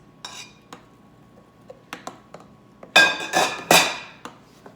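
Keto chocolate cake batter with eggs and curdled whipping cream with lemon juice being mixed in a bowl: scattered light clinks of a utensil against the bowl, then a few louder, longer scraping bursts near the end, with no talking.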